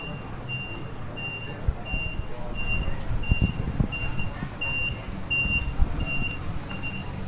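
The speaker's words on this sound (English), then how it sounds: "Love those trucks with their bloody noisy reversing lights." A reversing truck on a busy suburban street in Balmain, Sydney, its steady beeping alarm repeating evenly beneath a loud rumble of engines and passing traffic.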